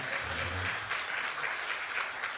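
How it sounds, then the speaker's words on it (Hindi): Audience applause at a Hindi kavi sammelan poetry gathering, a brief dense burst of clapping from a crowd with a faint voice underneath early on. "बात अच्छी लगे तो आपकी तालियां सुनो"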